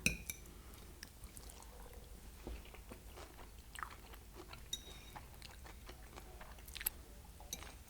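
Quiet close chewing and biting of a street corn pasta salad, with soft crunches and small clicks of cutlery in an otherwise still room.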